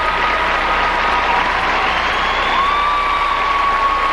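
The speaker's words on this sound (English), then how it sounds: "the crowd on their feet here at Joe Louis Arena for Michelle Kwan" A crowd at Joe Louis Arena gives Michelle Kwan a sustained standing ovation at a figure skating event, steady loud applause with some cheering throughout.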